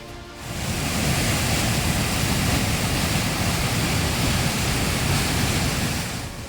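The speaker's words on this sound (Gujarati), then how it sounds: "ભારે વરસાદને કારણે વરેહ નદીમાં પાણીની આવક થતાં નદી ગાંડી તૂર બની છે" A river swollen by heavy rain in Gujarat sends up a loud, continuous roar of rushing water that fades in at the start and stays steady throughout.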